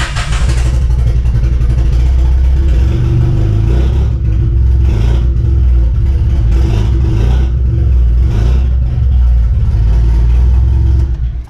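A 1980s sports car engine running again after two years, with no oil pressure, giving a loud, close, steady low rumble with a few brief rises in revs throughout.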